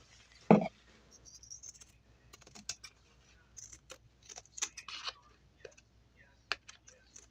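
Scissors snipping around a piece of fabric for a sewing project, sparse quiet close clicks and crisp cuts spaced irregularly, with faint background sounds and a little talk.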